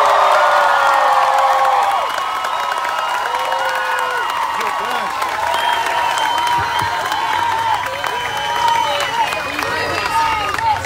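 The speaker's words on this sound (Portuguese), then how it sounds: "eu quero que vocês deem um grande salve de palmas" A crowd applauds and cheers for Guilherme Boulos at an evening political talk in Niterói, a dense, steady wash of clapping with scattered whoops and shouts that stays loud and close throughout.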